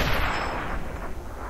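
Tank cannon firing in World of Tanks, a loud booming blast with a broad rumbling tail that fades slowly over a second and a half.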